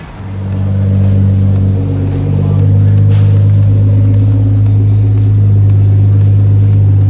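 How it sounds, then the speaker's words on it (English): A car engine runs loud and steady with a deep low rumble, holding high revs close by for the whole stretch without any talk. "Engine noise?"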